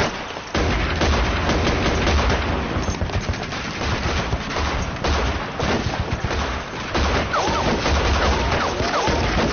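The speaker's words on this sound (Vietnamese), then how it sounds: "mau lên bắn bắn đi mau lên" A shootout in a Chinese period drama: loud, dense automatic gunfire roars almost without a break, with overlapping shots and bursts filling the whole stretch.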